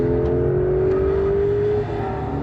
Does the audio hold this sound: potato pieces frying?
no